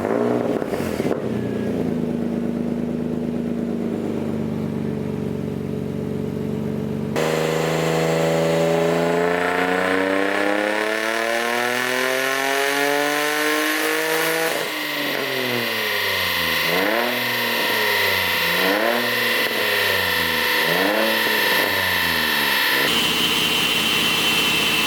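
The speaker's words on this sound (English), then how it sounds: "Okay, we finally got our first like decent dyno pull, and it's making, almost 4 pounds of boost" A turbocharged project car engine on a dyno starts at a rough idle, then climbs in one long, loud rising pull, followed by a series of quick repeated blips and revs. Nobody speaks.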